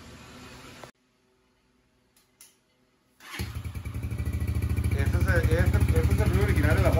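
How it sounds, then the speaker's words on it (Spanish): Motorcycle engine with its original stock exhaust starting up after a brief silence, then idling close by in a steady, throbbing rumble that grows slightly louder; someone talks briefly before the quiet gap. "Este es el ruido original de la moto, plebones."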